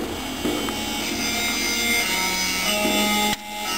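Custom song playing through the Duke Nukem 3D game in a boosted-bass version, a steady dense mix running throughout at a fairly loud level, with a brief dip near the end.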